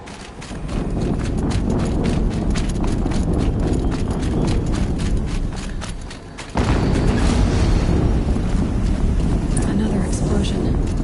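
Explosions in the video game Horizon Zero Dawn, fighting a Deathbringer machine: a continuous loud rumbling barrage of rapid booms and impacts with a sudden heavier blast partway through, mixed with game sounds.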